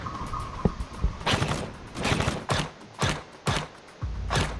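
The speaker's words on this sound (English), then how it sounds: "Oh, they're shooting." Enemies fire bursts of gunfire in a video game, spaced at irregular intervals with short gaps between them. The bursts sound fairly distant and are mixed with a mechanical hum.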